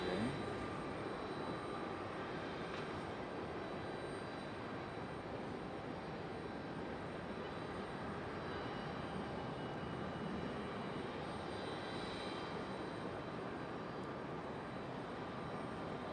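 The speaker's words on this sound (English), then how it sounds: "Next arrival will be Delta Connection 5232 SCRJ 900 coming in from LaGuardia." Delta Connection CRJ-900 regional jet arriving at Raleigh-Durham airport, a faint, distant steady jet rumble and hiss that holds evenly throughout with no talking.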